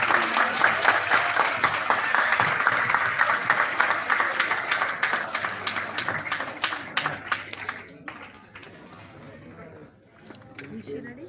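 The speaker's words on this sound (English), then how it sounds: "Big round of applause." An audience at a live seminar breaks into a sustained round of applause, dense clapping that gradually thins out and fades toward the end.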